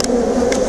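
Restless honey bees buzz in an opened hive on a cool day, a close, steady drone with a few brief louder buzzes passing by.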